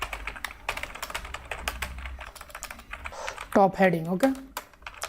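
Fast clattering keystrokes on a computer keyboard while HTML code is typed, close and continuous, with someone talking over the typing.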